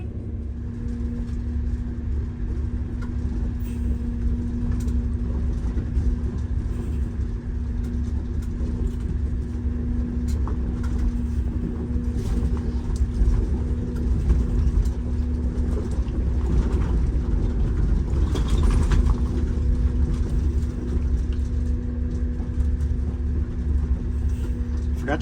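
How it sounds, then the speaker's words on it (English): A bus rolls over a gravel road, tires crunching steadily beneath a low engine rumble and a constant droning hum, loud and continuous throughout with little variation. "We only hear gravel right now."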